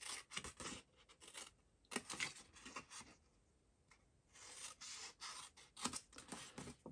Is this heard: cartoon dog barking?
no